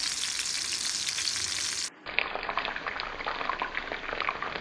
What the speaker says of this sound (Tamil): நான் இதில் ஷாலோ ஃப்ரை தான் பண்ணுறேன்